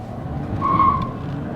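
An Audi A5 with 500,000 kilometres accelerating hard on the road, with a tonal whine and tyre or wind noise building and peaking mid-clip over a steady low rumble.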